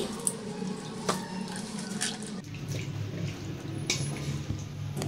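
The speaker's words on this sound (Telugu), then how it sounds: "ఇప్పుడు వాటర్ ని ఈ విధంగా పిండేసి పీసెస్ ని సెపరేట్ చేసుకోవాలి" Salted bitter gourd pieces squeezed by hand to press out water, with wet squishing, dripping and splashing close by, loud bursts among quieter trickles and no talking.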